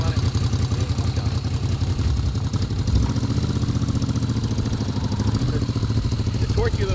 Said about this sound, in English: It's a torquey little V-twin, very little vibration for a V-twin. Smooth and fast.